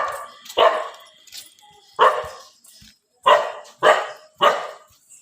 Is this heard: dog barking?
yes